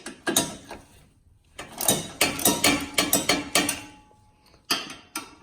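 Quick repeated ratchet clicks loosening intercooler mounting bolts on a Fiat 124 Spider, short rhythmic bursts with brief pauses between, close and crisp.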